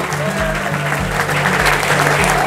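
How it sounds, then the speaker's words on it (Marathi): An audience claps at an award felicitation held at a study academy, with dense, sustained applause over low, stepping musical tones. "हां कृपया टाळ्या होऊ द्या मित्रांनो."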